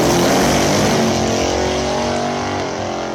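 A Chevrolet Malibu drag car on nitrous roars at full throttle, loud and close, with a dense, sustained engine howl that stays dominant throughout and eases only slightly near the end.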